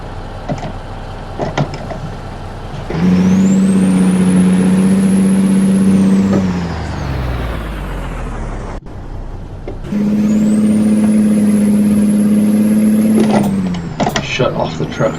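Truck in American Truck Simulator, two long droning engine or air-system runs, each with a rising whine that levels off and then fades, separated by a quieter stretch and interrupted by clicks and clunks.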